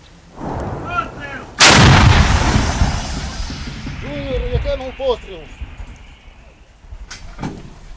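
An artillery gun fires from a military vehicle with one loud, close blast, followed by a long rumbling decay. Voices are heard before and after the shot, and a few sharp knocks and rattles come near the end.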